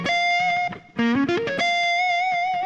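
Distorted electric guitar plays a short minor arpeggio phrase from a solo: a held note, a quick rising run of notes, then a long sustained note ringing out.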